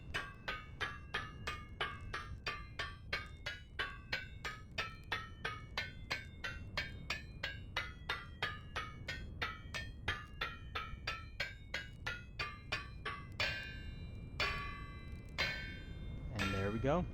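Helve hammers strike iron on a bronze anvil in the video game Vintage Story, a long run of evenly spaced metallic clanks with ringing overtones, about two per second, steady and alone.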